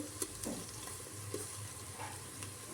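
Ginger garlic paste sizzles and fries in hot oil for chicken dum biryani, with a spoon stirring and scraping through it in a few soft strokes over a steady close sizzle.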